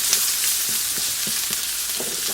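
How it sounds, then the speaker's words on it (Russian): Steady hiss of onion and carrot frying in a hot oiled pan, with a few soft stirring scrapes ticking through the sizzle. "И уже вместе с морковкой это самое обжариваем."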